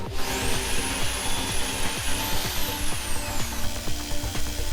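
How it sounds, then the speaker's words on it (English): Jigsaw blade sawing through MDF along a curved cutting-board outline, a loud steady buzzing whine with rapid reciprocating chatter close by, with no talking. "So I cut the outline using a jigsaw"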